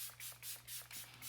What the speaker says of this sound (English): Now that that's done, I'm going to set my face a little bit more with that same setting spray